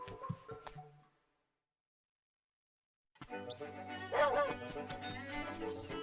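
Small dog yipping and whimpering in The Legend of Zelda: Link's Awakening, short game-style barks after a brief silence, with game music underneath and a voice talking over it.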